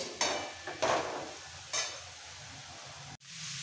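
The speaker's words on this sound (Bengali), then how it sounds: "এই সবজিগুলো একটু হালকা ভেজে নেব" Vegetables fry lightly in a pan for pav bhaji, a soft sizzle broken by a few scraping stirs and clinks of a spatula against the pan, fairly quiet and close.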